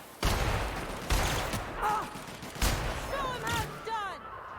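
Gunfire during a sniper fight in the video game The Outer Worlds, four or five sharp, loud shots spaced about a second apart over game ambience, with a voice heard among them.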